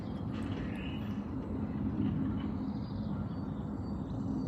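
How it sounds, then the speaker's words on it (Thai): An airplane passes overhead near Frankfurt, a faint, steady distant rumble heard outdoors in the morning with light bird calls and no talking. "กว่าจะได้ยินเสียงเครื่องบินด้วยนะคะ"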